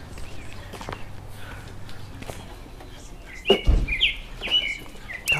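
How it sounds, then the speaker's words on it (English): Sharp, loud bird chirps ring out close by over a steady low rumble of background noise, with a few thuds mixed in. "God, that bird is loud."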